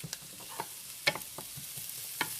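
Chitlins frying in a pan while being stirred, a soft steady sizzle under scattered scraping and clicking stirs, close up, with no talk.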